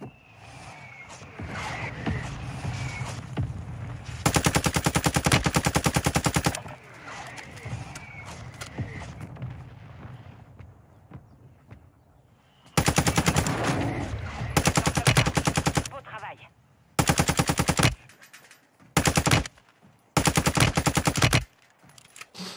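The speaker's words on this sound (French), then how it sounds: "vous avez vu le nombre de balles que je tire?" Automatic weapon fire in an online shooter video game: loud, rapid bursts of gunfire, several long strings and shorter volleys separated by pauses filled with softer in-game background noise.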